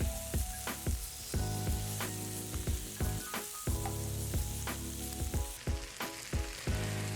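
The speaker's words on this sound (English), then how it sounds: "I took those cubes and pan sautéed them for a little bit" Cubes of pork steak and leftover vegetables sautéing in a pan, a loud continuous sizzle with rhythmic stirring scrapes and utensil knocks every second or so, close up and with no speech.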